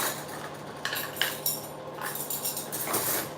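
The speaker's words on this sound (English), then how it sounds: "I unstack onto this counter and then I pick up the dish basket." Cutlery and dishes clink and clatter as a dish basket is unstacked onto a counter, several sharp metallic taps and rattles spaced irregularly over a soft background hum.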